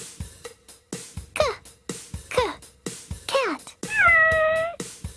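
A cat meows several times, short rising-falling calls and one longer drawn-out meow near the end, set between short rhythmic percussive beats and brief spoken words.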